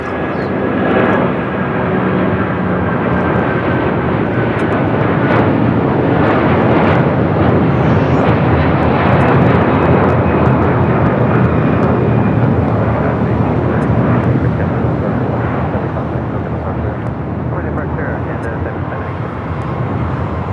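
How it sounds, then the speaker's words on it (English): An Air Canada Airbus A330-300 in Star Alliance livery takes off at LAX, its jet engines giving a loud sustained roar that holds strong throughout, with a commentator's voice heard over it. "We do have that Air Canada A330-300 now taking off in the Star Alliance livery"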